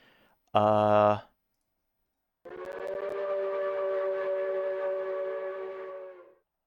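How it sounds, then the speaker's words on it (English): A brief loud blast of a train whistle, then after a pause a long sustained multi-toned Pennsylvania Railroad three-chime whistle holding steady for several seconds before cutting off, at a speedway. "You should have heard the lovely Pennsylvania Railroad 3-chime whistle."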